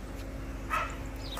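A rescued dog, brought in to be slaughtered for meat, gives a brief, faint whimper near the middle of the clip over a steady low background hum.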